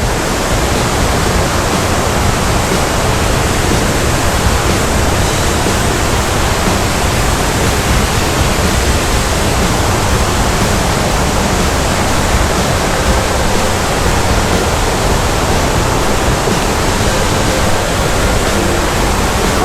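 A waterfall at a tunnel-like arbor viewpoint in a village ringed by mountains and streams roars steadily and evenly throughout, a loud continuous broadband rush with no voices.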